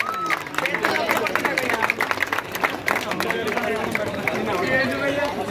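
Audience at a prize-giving ceremony claps for the winners, a continuous patter of hands mixed with loud talking and crowd chatter close by.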